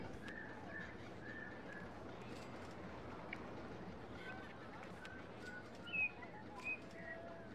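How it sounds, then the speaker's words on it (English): Birds chirping and singing in short scattered calls with a pigeon cooing, set against a soft outdoor background; a couple of brief louder chirps come near the end. "Bird music sounds."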